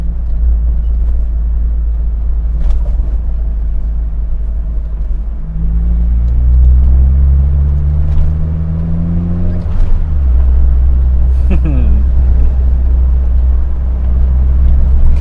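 An Austin Metro engine with a Maniflow exhaust idles with a deep, steady burble, rising in a couple of low revs with faint crackling pops near the end.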